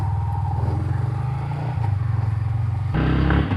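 A motorcycle engine idles with a steady, throbbing rumble, then revs up louder near the end as the bike sets off on a ride. The sound is close and has no talk over it.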